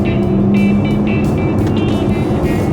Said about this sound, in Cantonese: 我去加速加到145，睇下幾大聲嚟，聽住啦。